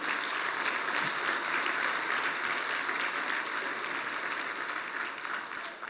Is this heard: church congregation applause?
yes